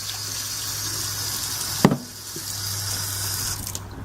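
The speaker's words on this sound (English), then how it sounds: "Start by wetting a bowl," Kitchen tap water runs steadily into a bowl being wetted, a constant hiss interrupted by a brief knock of the bowl, then the flow resumes.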